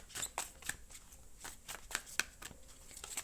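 Moon tarot cards being shuffled and drawn by hand, a run of quick, faint, close-up papery riffles and flicks in irregular bursts.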